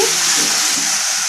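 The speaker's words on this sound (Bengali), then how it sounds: "মোচাটা দিয়ে আমি আবার ভালোভাবে একটু নাড়াচাড়া করে দিচ্ছি" Boiled banana flower with potatoes is stirred in a hot pan, a loud, dense, continuous sizzle and hiss with soft turning sounds underneath, briefly.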